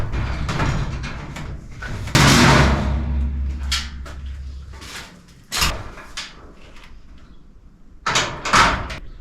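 A lightweight door with small replacement closing springs shuts in a rental house, giving several sharp knocks and clatters spread through the clip over a low background hum.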